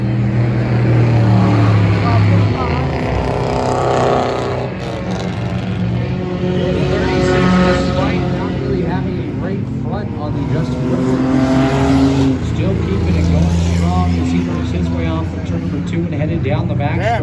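Race cars roar around an oval track during an enduro race, engines droning and swelling as they pass, steady and loud beneath continuous commentary from an announcer.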